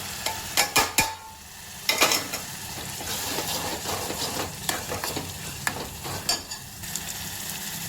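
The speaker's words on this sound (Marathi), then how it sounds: "आता टाकते मी टोमॅटो" Tomatoes drop into a hot pan for a soybean chunk curry, setting off a few loud clattering knocks and then a sizzle under repeated close stirring and scraping strokes, with no talk.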